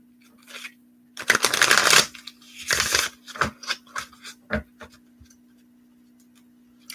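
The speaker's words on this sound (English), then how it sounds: "I'm just going to shuffle them, cut them, shuffle them." Tarot cards being shuffled and cut by hand, with two dense riffling bursts followed by a scattering of sharp, close card taps and flicks in an otherwise quiet room.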